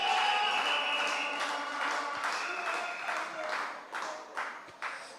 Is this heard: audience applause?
yes